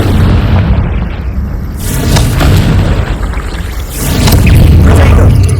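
Loud, rumbling blasting-spell explosions from the Hogwarts Legacy video game roar continuously, with deep booming bursts swelling and fading over a dense wash of crackling debris.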